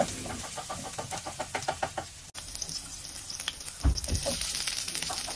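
Garlic dropped into olive oil in a pan sizzles and crackles, with a rapid run of spoon knocks and stirring at the start, then steady frying hiss close by and no talking.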